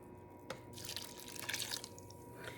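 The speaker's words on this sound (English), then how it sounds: "Then I'm gonna be adding some vinegar to this." White vinegar poured into a bowl of zucchini relish, a steady trickling splash running a couple of seconds with drip-like patter, fairly quiet and close, no talking.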